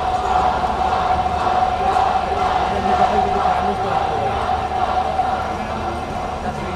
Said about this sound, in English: the crowd are saying Zombie K